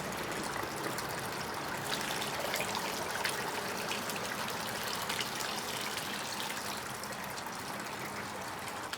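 Water poured as an offering into a Hawaiian pond trickles and splashes in a steady, close, continuous stream with no talking over it.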